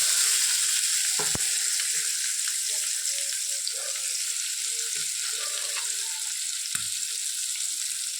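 Fish frying in a small amount of hot mustard oil makes a bright, continuous sizzle and crackle close by, broken by a few brief clicks and knocks.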